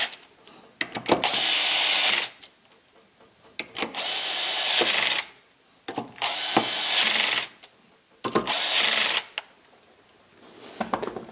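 A power drill drives in the bolts securing a motor housing, running in four separate loud bursts of about a second each, with short quiet gaps and faint handling noises between them.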